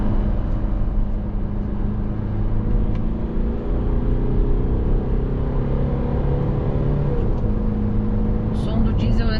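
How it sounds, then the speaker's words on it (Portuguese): A diesel engine in a 2023 Nissan Frontier Pro4X pickup makes a steady, low, droning rumble inside the cabin, with constant road-like hum throughout. "O som do diesel é sempre um pouco maior dentro da cabine"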